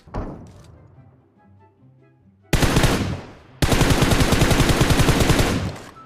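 Automatic gunfire in the mobile battle royale game PUBG Mobile: a short burst, a brief pause, then a longer rapid stream of sharp shots, loud and close, after a quieter opening.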